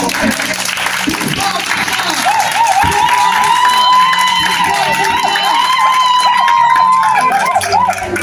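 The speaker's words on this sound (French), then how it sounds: "Sous applaudissements." A party crowd claps and cheers for an actor at an anniversary celebration, loud and continuous, mixed with whoops, chatter and music-like tones throughout.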